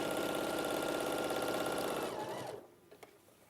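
A sewing machine stitches quilt seams with a quarter-inch seam allowance, running in a fast, steady whir for about two and a half seconds before stopping. A few faint clicks follow in the quiet.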